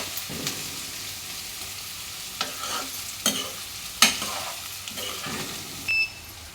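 Onions and green chillies fry in a pan for Andhra-style drumstick pulusu, a steady close sizzle broken by a few sharp spatula scrapes and taps, with no talking.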